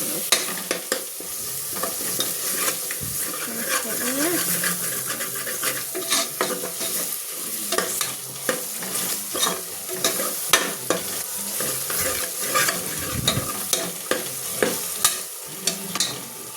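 Ingredients for chicken biryani fry in a pan with a continuous close sizzle, broken by frequent scraping and clattering strokes of a spoon stirring throughout.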